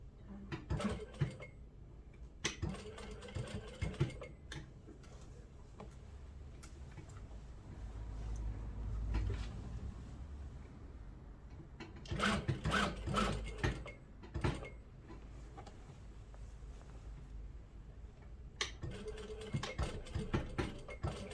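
A sewing machine stitches an apron in several bursts of rapid, rhythmic mechanical clatter separated by pauses, close and fairly quiet, with faint handling sounds between runs and no talk.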